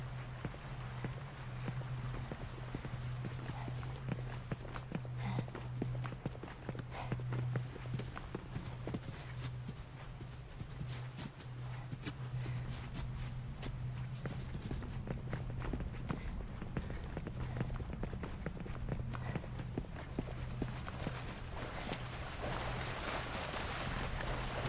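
Horse hooves clip-clop steadily in The Last of Us: Left Behind, a continuous rhythmic clatter over a constant low hum and wind-like noise, with no talk.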